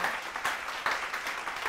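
Studio audience applause for Um on a Thai TV talk show, a short burst of dense, steady clapping heard alone.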